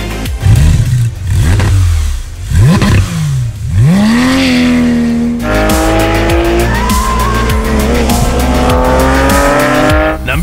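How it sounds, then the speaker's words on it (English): A Porsche 911 GT3 RS engine screams through repeated gear changes, rising in pitch with each upshift, loud and close, with tire squeal mixed in. "The 911 GT3 RS engine has a low center of gravity"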